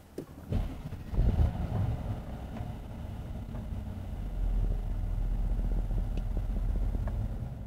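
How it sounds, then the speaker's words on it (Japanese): A 2014 Mercedes-Benz S550 Long with the AMG Sports Package cranks over with a brief starter burst, then settles into a low, steady idle, quiet and close with faint background rumble. "ではエンジンを始動します。"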